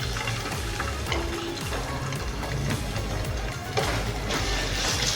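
Chicken pieces with a tablespoon of ginger garlic paste frying in a pan over medium heat, giving a steady, close sizzle with crackling spatters throughout, louder near the end.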